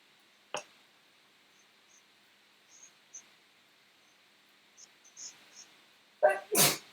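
A single sharp sneeze indoors near the end, then a second louder burst, following a quiet stretch with faint scattered small noises and no talk.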